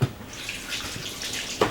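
Cooled brine splashes and pours steadily over fish for a moment, a broad hissing wash with a brief louder splash near the end.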